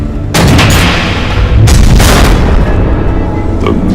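Missile explosions in Batman: The Enemy Within, two loud overlapping booming blasts with a long rumbling roar filling the sound, heavy and close.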